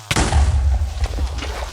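An explosion in the Minecraft video game, played on a hardcore survival world, arrives as a sudden loud boom with a deep low rumble that lingers, followed by fainter thuds.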